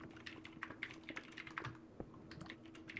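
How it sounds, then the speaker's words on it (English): Quiet, fast tapping on a computer keyboard, keys clicking in an uneven rapid stream close by, with no voices. "the typing."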